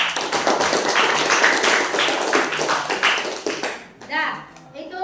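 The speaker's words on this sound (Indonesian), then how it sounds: "Tepuk tangannya dulu." Children in a classroom clap their hands in a dense burst of applause for about four seconds, then it stops abruptly and a few voices and chatter follow.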